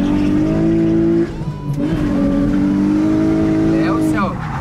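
A Nissan 350Z drifting, its engine holding a loud, steady high-revving drone with shifts in pitch, while tires squeal and skid near the end, with people talking over it.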